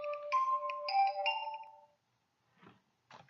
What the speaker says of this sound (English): Can't believe my phone actually went off on me again.